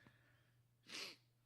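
A single quick sneeze bursts out, short and breathy, over a faint steady hum with no talking around it.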